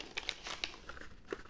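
Plastic packaging crinkles and crackles in sharp, irregular bursts as a thermometer box is opened by hand, close and fairly loud with no voices.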